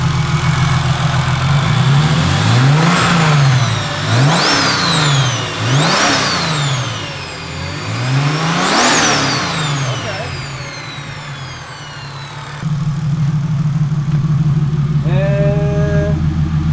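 An old boosted BMW E36 engine, previously smoking, is revved repeatedly, rising and falling in several sharp bursts, loud and close, before settling to a rough idle with a faint whine near the end.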